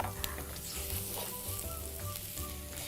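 Two teaspoons of garlic fry in a pan with a steady, faint sizzle and crackle. It continues evenly for a few seconds with no talking.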